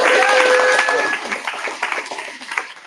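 Audience applause for performers at a literary reading event in Galveston, starting full and tapering to scattered claps over a few seconds, with a brief whistle and voices mixed in.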